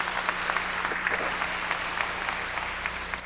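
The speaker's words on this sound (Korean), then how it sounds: "박수 좀 쳐줘요" A church congregation claps together in a sustained wash of applause with a few sharper individual claps standing out, steady and dense throughout, no voices on top.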